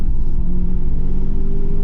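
Audi S3 with a stage 1 tune, engine revving and droning steadily as a loud, continuous rumble close by; distinct pops and bangs are not clearly picked out.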